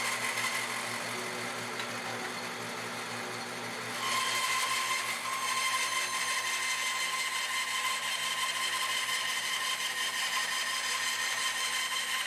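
A band saw runs with a steady hum, then its tone rises and brightens as the blade bites into a wooden workpiece and keeps cutting continuously, close and fairly loud.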